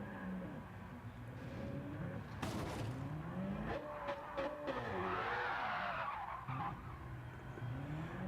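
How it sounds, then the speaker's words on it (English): A BMW race car in a racing video game spins donuts, its tyres skidding and squealing in repeated swirling bursts over a revving engine, with no one speaking. "No, more donuts from Sharky."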